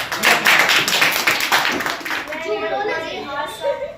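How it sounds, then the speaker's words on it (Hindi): Audience clapping at a school safety programme, a short burst of hand claps from a crowd that fades as a voice starts speaking. "मैं चाहूंगा कि रिया कुमार के लिए जोरदार तालियां हो जाए।"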